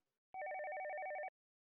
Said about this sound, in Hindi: फोन आया, मैं देखती हूँ।